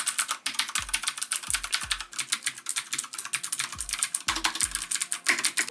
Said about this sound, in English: I just want to give you guys an idea what the keyboard sound like from this distance